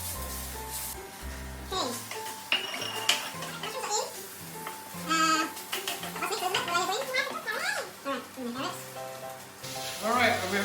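Minced pork sizzles in a hot pan at home while it is stirred, the frying hiss running under chatty voices of an adult and a child throughout.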